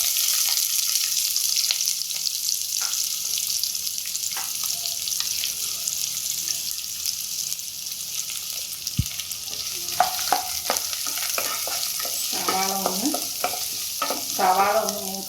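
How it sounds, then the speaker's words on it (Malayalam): Sliced onions frying in hot oil in a pan while a Kerala-style chana masala is cooked, a steady loud sizzle throughout, with clinks and scraping from stirring near the end. "സവാള ഇട്ട് കൊടുക്കാം."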